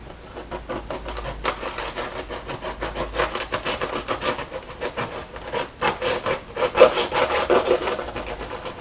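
A small knife saws through the papery outer shell of an Asian hornet nest, producing rapid rhythmic rasping, scraping strokes that come close and steady, louder in bursts toward the end, with no talking.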